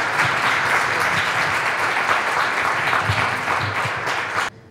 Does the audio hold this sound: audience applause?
yes